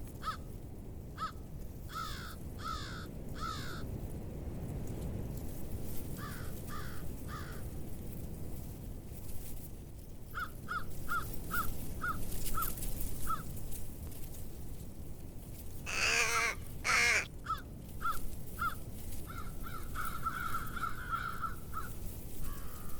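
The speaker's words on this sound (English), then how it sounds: "There are plenty of crows coming and going behind my blind." Several crows caw repeatedly near a hide in the Wisconsin countryside, harsh calls in quick runs of three or four, some near and loud, others fainter and farther off, over a steady background hiss.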